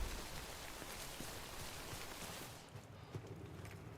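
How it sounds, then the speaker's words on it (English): Rain falls steadily in the Death Stranding game world as a dense, close patter of drops, easing slightly toward the end with a few sharper taps. "We wait out the rain over there."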